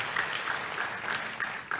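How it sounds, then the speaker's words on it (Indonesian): A church congregation gives applause for Jesus during a Sunday sermon, a soft, steady patter of many hands heard from a distance with no voices. "Kasih tepuk tangan yang meriah untuk Tuhan Yesus"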